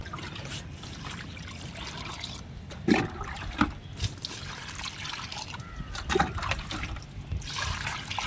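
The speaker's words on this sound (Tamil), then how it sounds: "எல்லாத்துக்கும் தண்ணி ஊற்றிக்கலாம்" Water being poured from a container onto four newly planted turmeric plants in a home garden, a soft continuous trickle and splash on soil with a few louder spurts, close by and without talk.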